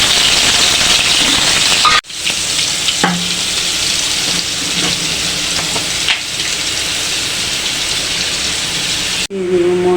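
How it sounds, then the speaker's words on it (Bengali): Potatoes fry in oil with a loud, continuous crackling sizzle, broken by two brief dips where the sound cuts off before the frying resumes. "আলুগুলি ভেজে নেব।"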